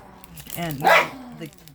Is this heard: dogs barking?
yes